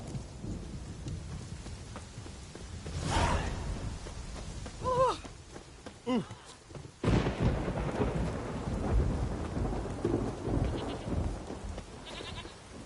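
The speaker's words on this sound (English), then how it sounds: "It's raining." Rain falls steadily in The Witcher 3 while thunder rumbles and cracks several times, some rolls distant and one sharp close clap, with faint animal bleats in between.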